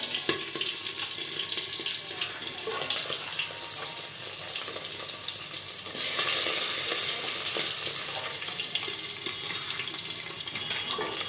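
Tangra fish fry in a pan with a continuous bright sizzle that swells louder for a few seconds midway, a dense crackling hiss with no voices.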